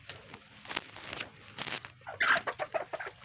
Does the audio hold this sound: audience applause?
no